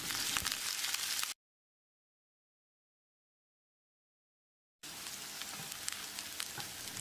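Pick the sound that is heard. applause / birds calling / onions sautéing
onions sautéing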